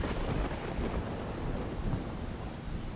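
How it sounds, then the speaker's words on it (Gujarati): Heavy, incessant monsoon rain in Tapi district, Gujarat, pours in a dense, continuous roar of drops beating on surfaces, loud and close, with a low rumble beneath and no voices. "છેલ્લા 24 કલાકમાં તાપી જિલ્લામાં અવિરત વરસાદ વરસ્યો છે"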